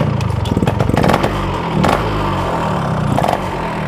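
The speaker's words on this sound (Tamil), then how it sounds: "இன்ஜின் கண்டிஷன் எப்படி இருக்குது அப்படின்ட்டு நான் உங்களுக்கு ஸ்டார்ட் பண்ணி காட்டுறேன்" A vintage Yamaha RX100 motorcycle engine, under restoration, is started and runs close by with a rough, busy two-stroke idle and a steady loud rattle. No one speaks.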